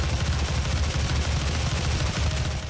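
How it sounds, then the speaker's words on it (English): Rapid sustained machine-gun fire in the shooter game Doom, a dense continuous stream of shots with heavy low-end thump, loud and unbroken throughout with no talking. "this machine gun is just quite the hoss"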